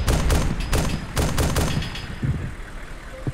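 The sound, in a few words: gunshots in video game Arma 2 Wasteland mod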